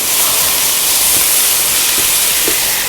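Sauerkraut hits a hot pan while pork loin chops cook, giving a steady, loud steamy hiss that holds evenly for about three seconds, with faint low clicks beneath and no voices.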